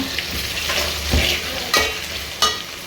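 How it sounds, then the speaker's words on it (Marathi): Liver fry sizzling in a pan, a steady loud crackle with a few sharper stirring scrapes, no talk. "आता मी घेतले जेवण करायला आहे बघा लिव्हर फेटा करायला घेतले"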